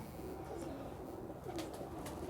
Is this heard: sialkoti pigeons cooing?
yes